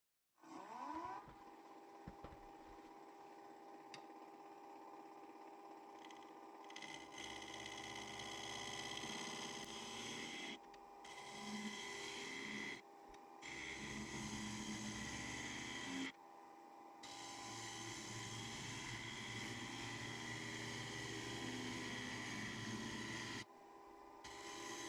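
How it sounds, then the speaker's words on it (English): Wood lathe spinning at 1000 RPM while a 3/8 inch bowl gouge cuts into a resin workpiece, a steady motor hum with rasping scrapes that come and go in several long passes. "Turning at 1000 RPM using my 3/8 inch bowl gouge."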